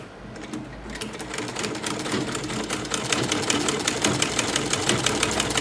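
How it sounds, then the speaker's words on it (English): A sewing machine stitches the white edge of an under-bust corset, running continuously with a rapid, even mechanical clatter that stays close and fairly loud throughout. "now we are sewing on this white edge, this edge."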